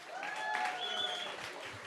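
Fairly faint crowd applause at the live final of the Liverpool International Song Contest 2021, a short spell of clapping with a few tonal squeals over it.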